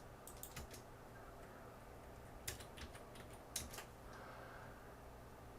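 Someone types on a computer keyboard in faint, close clusters of quick key clicks with a few heavier strokes, over a low steady fan hum.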